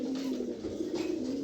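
A male pigeon coos steadily and close by, a low rolling throaty murmur that carries on without a break, with no talk over it.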